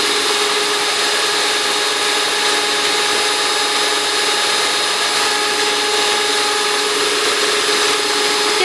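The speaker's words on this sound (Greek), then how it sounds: "Προσθέτουμε το ένα αυγό και χτυπάμε έως το απορροφηθεί." Electric mixer beating an egg into gingerbread cookie dough, a loud, continuous motor whine with steady high-pitched buzzing that runs unbroken and close throughout.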